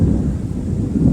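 Thunder from a Central Florida summer thunderstorm rolls as a deep, steady low rumble, loud and sustained with no break.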